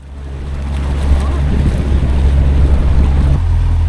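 Parsun 60hp four-stroke outboard motor running on a boat during break-in at about 2000 RPM, a steady low droning hum with wind and water noise over it, close and continuous, shifting slightly in tone near the end.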